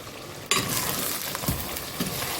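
Eggplant pieces drop into hot oil and begin frying, a sudden loud burst of sizzling that settles into a steady close crackle with a few stirring bumps, no one talking.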